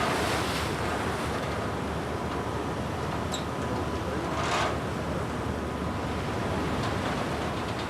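Giant South Atlantic waves roar under strong wind, a dense and unbroken wash of surf and gusting air that stays loud and steady throughout, with no voices.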